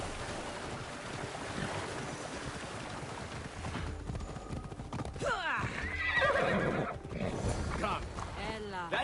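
Hooves clop and a horse whinnies over an ambient backdrop, with a voice murmuring underneath, in the video game Assassin's Creed Odyssey: The Fate of Atlantis.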